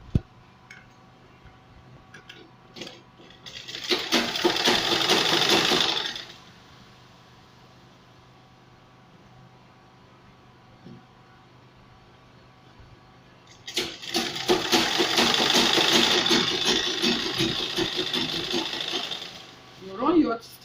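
A sewing machine runs in two steady bursts of rapid, close stitching as fabric for a traditional buba garment is sewn, with quiet pauses between them and a person talking intermittently.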